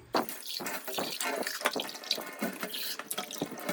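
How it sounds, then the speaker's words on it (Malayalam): A glass scrubbed with salt is rinsed under a running kitchen tap: a steady rush of water with irregular splashes and sputters as the glass is turned in the stream, close and fairly loud. "ഇനി നമുക്കിതൊന്ന് വാഷ് ചെയ്യാം"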